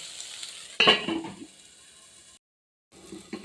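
Pumpkin and eggplant sizzle softly in a pan while a utensil stirs with a few brief scrapes and clatters, followed by a short pause and more stirring.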